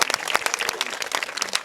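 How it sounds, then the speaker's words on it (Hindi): Villagers clapping at an outdoor gathering in Boraii village near Garhakota, Sagar, marking a liquor ban, a brief burst of close, uneven hand claps from a small crowd, with no speech over it. "तालियां बजाओ एक बार इनके लिए।"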